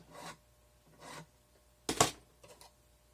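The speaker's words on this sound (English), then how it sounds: "So we want to cut that flat. Both sides. Nice and filed flat." A file scrapes a block of jewelry wax flat in three short strokes, then a sharper, louder rasp and two small follow-up scrapes, close and isolated in a quiet room.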